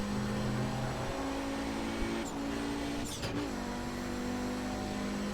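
Audi 90 IMSA GTO Quattro race car engine in the iRacing simulator, a steady droning hum held at near-constant pitch, with short shifts in tone and a couple of brief clicks, close and unbroken.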